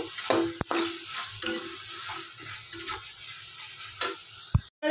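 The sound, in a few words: stirring soya chap curry masala in a pan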